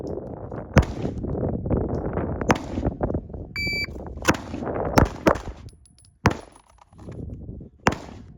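Sharp, loud Glock 19 pistol shots at a shooting range, several single cracks spaced irregularly over a steady background rumble, with a brief electronic timer beep between them.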